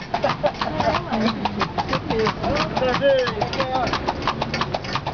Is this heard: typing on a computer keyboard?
no